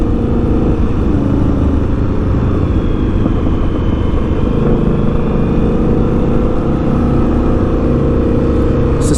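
Indian Scout motorcycle engine pulling hard in second gear while riding on open roads, a loud continuous low drone with steady wind rush and no pause, close to the rider.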